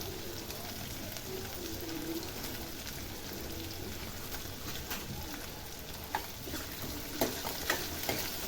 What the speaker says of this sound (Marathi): आता हा पण आपल्याला छान लाल गोल्डन ब्राऊन होसपर्यंत ह्या तेलामध्ये तळून घ्यायचा आहे